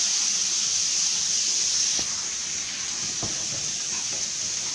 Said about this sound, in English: I'll let it fry.